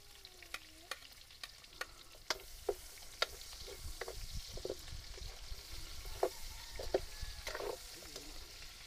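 Garlic sautéing in hot oil while cooking kaldereta, a soft steady sizzle punctuated by sharp scraping and tapping of a utensil against the pan, close and without speech.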